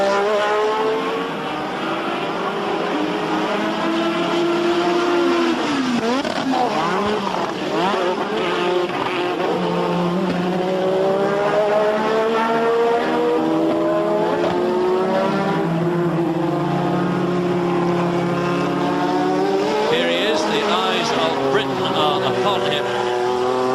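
Formula 1 cars lapping during qualifying at Brands Hatch in 1986, engines screaming and rising and falling in pitch as they pass and change gear, loud and continuous, with a commentator talking over them.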